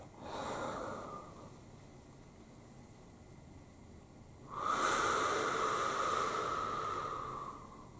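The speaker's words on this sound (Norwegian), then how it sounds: "pust inn og pust ut" Two deep breaths, a soft inhale followed by a longer, louder, airy exhale close to the microphone in a quiet, calm setting.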